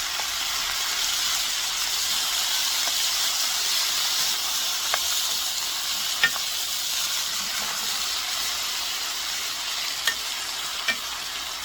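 Beef stir-fries in a hot pan, giving a steady, loud sizzle and hiss throughout with scattered small pops and crackles, and no talking.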